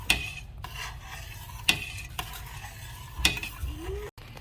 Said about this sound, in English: now simmering, and I'm just going to continue to stir and let it cook down until it is a jam consistency.